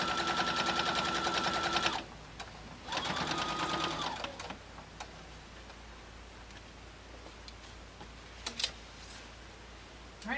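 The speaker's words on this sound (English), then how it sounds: "Alright, I'm just going to sew all the way around." Sewing machine stitching a quilted tote bag made from a June Tailor placemat kit, running in two fast bursts of rapid needle chatter, then quieter clicks and handling noises.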